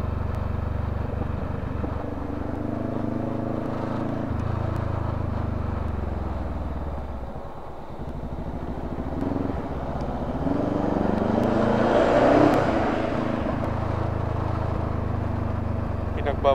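A truck's engine rumbles and swells as it is approached and passed on a dark road, heard from a motorcycle on a night ride; the bike's steady drone and wind noise run throughout, and someone speaks over it.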